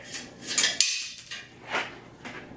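Metallic clinks and scraping clatter sound as a nut is worked off a wheel during a tire change, in a few irregular bursts separated by brief pauses.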